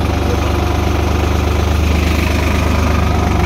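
A Sonalika 32 hp tractor engine idles steadily and close by, a constant low throbbing hum with no voices over it.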